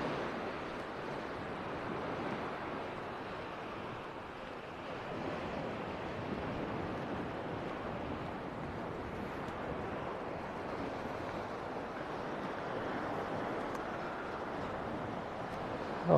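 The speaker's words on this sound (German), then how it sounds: "Am Strand von Kumkö." Waves rolling onto the beach at Kumköy on a March evening, a steady broad wash of surf with faint wind, continuous and moderately distant, with no voices.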